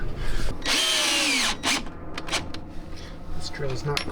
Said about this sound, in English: This drill is not quite strong enough for that one.